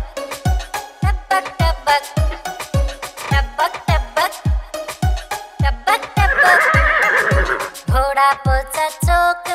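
Repeated horse neighs and whinnies set to a rhythmic beat in a Hindi nursery rhyme, loud and regular throughout, with a brief burst of mixed music in the middle.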